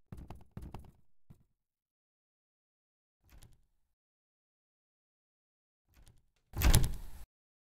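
In the Baldi's Basics V1.4.1 mod, a game door swings open with a short, loud burst near the end, after scattered faint footsteps and thumps separated by silence.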